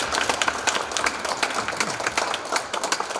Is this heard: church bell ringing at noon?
no